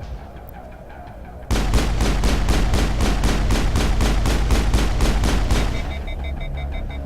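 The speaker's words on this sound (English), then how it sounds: "I had both Rex and Tally using shotguns" Rapid video game gunfire from shotguns: a dense, loud string of about fifteen evenly spaced blasts in quick succession, then it cuts off into quieter game sounds with faint tones.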